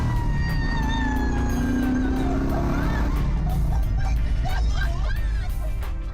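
A Yenko Camaro restomod accelerates through its gears, the engine note rising and dropping with each shift under a loud continuous road roar, a voice audible over it.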